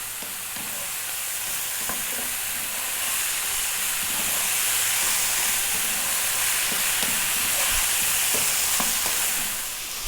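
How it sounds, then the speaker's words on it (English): Day-old cold rice fries in a pan over high heat, a steady loud sizzle and hiss running throughout with scattered scraping taps of stirring, no voices. "We're going to fry this now for 4 to 5 minutes."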